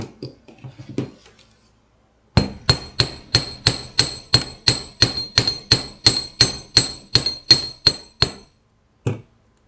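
A hammer taps wire to flare a curve for earrings: a rapid, even run of about eighteen sharp metallic strikes, close and loud, after some quieter handling clinks and before a final single tap.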